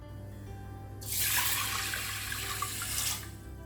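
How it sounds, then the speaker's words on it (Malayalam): About two cups of water pour into a pressure cooker holding green gram, a loud rushing splash lasting roughly two seconds before it cuts off. "എന്നിട്ട് ഒരു 2 കപ്പ് വെള്ളം ഒഴിച്ചു കൊടുക്കുക."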